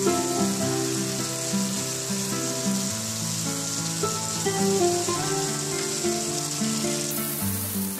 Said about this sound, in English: Then add boiled rice and spread them on top of vegetables.